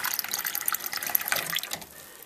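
Water splashes from a tap into a container of fermented tomato seeds after the mould layer has been removed, a bright, uneven gurgling fill that runs continuously and tapers slightly at the end.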